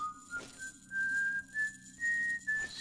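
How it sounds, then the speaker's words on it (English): Human whistling in a Thief fan mission video game set in a prison, a thin clear tune of sustained, slightly rising notes with short breaks, fairly quiet over a dim ambient background. "Is it an ordinary human whistling"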